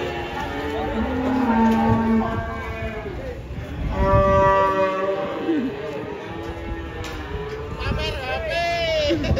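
A bull and other cattle low repeatedly with long, deep moos at varying distances, some overlapping, over steady outdoor background noise near a truck.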